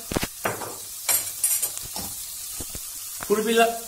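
Spiced cauliflower mixture for a musakka sizzles in a pan while it is stirred, with scraping strokes and bursts of crackle, close and moderately loud, and occasional brief sounds between strokes.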